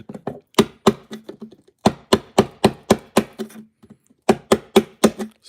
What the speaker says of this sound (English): I've never tried to chisel this stuff, so I'm curious if this will chisel.